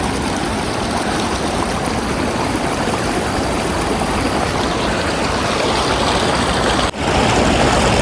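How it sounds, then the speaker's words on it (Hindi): Glacier meltwater stream in Baltistan near Masrur rock rushing in a steady, loud, broadband roar close by, with a brief dip near the end. "पानी की आवाज़ बहुत ही पुरसुकून है"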